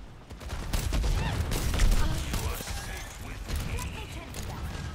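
Overwatch 2 weapon fire during a team fight, with rapid shots and mechanical clatter over a dense, busy game mix with occasional voices.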